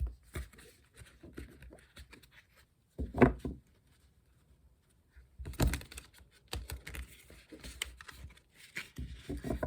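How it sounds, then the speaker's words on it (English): Tarot cards being shuffled by hand: two short, crisp riffling bursts with quiet pauses between them, close and fairly soft. "One more shuffle."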